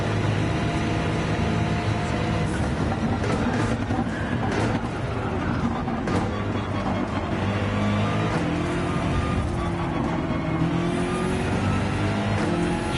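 BMW racing car engine in the Gran Turismo video game, a steady loud drone of engine noise with shifting pitch throughout, no speech.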